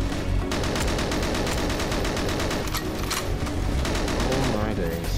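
AK-47 fire in the GoldenEye Source game sounds as dense, rapid bursts of shots, loud and packed together throughout, mixed with other game noise, with a player's voice talking faintly in places.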